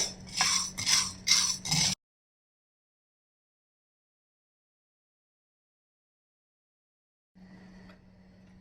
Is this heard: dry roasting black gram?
yes